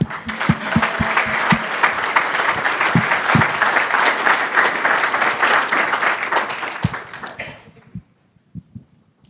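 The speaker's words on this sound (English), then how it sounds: "Let's give them a round of applause." A crowd at a Utah JS meetup applauds people called up on stage, with sustained clapping and sharp individual claps standing out. It stops abruptly near the end, leaving a few scattered claps.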